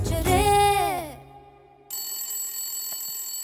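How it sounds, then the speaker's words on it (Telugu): A phone ringtone rings loudly with a rising melodic tone for about a second, then a steady electronic tone continues under a faint background hum, in a Telugu comedy film scene. "ఏ శైలు ఫోన్ రా మాట్లాడు"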